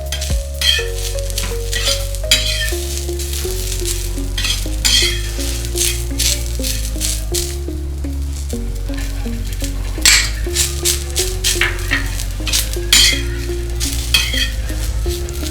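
Coriander seeds and coconut roast and sizzle in a pan with browned onion for a Maharashtrian matki rassa, with steady frying and clinking stirring strokes over background music.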